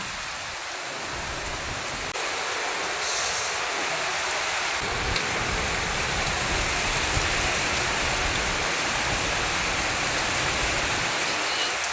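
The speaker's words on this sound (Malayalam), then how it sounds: "രാവിലെ എണീച്ചപ്പോൾ തൊട്ടേ നല്ല പെരുമഴയാണ്" Heavy rain pours steadily, a dense continuous hiss close by that never lets up.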